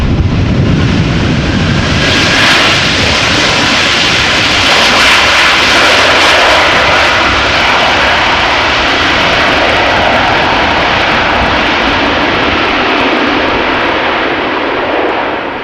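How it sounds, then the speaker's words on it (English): A jet airliner lands at Amsterdam Schiphol in a gusty crosswind and applies reverse thrust. A loud, broad engine roar swells early on and holds steady and close for the whole stretch, with no voices. "Nice application of the reverse thrust there."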